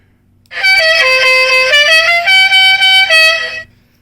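A single loud, sustained electronic horn blast lasting about three seconds, with a slightly wavering musical pitch, close and clear, from the original horn of a Kyosho Dodge Charger General Lee toy RC car.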